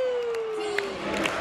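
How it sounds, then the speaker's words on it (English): Arena crowd at a Swedish professional hockey game, Djurgården vs Mora, roaring steadily in a loud, continuous wash, with a sustained whistle-like tone gliding slightly downward over the din. "the crowd is, I think, almost back to first period decibels"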